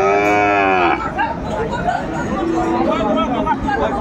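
Sahiwal bull calves and other cattle at a busy livestock market low close by, one long moo at the start, then steady crowd chatter and bargaining voices throughout.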